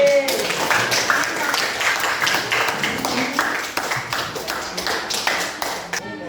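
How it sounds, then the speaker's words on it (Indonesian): Students in a classroom clapping together, a steady run of crisp, close hand claps that slowly fades toward the end. "Oke, tepuk tangan dulu."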